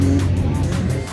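Drift cars roll along the return lane of a drift track at a car meet, a close engine drone with a low, steady pitch fading slightly at the end, while a voice talks over it.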